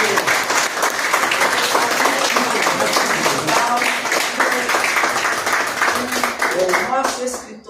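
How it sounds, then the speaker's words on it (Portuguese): A seated audience at a Brazilian academy ceremony gives sustained, dense applause for a singer, steady and loud throughout with cheering voices mixed in, tapering off in the final seconds. "Palmas para o Jaime"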